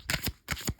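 A deck of tarot cards is riffled twice in quick succession, each a short, crisp flutter of papery snaps, close and moderately quiet, with nothing else heard.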